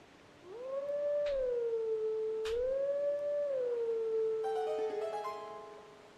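A wolf in Zelda: Twilight Princess howls a long, wavering melodic tune, sliding pitch with clear overtones, ending in a brief burst of higher chiming notes, with no one speaking.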